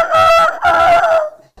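A person's voice imitates a rooster crowing. It is one loud, close, drawn-out cock-a-doodle-doo in two rising and falling phrases, heard alone with no other sound.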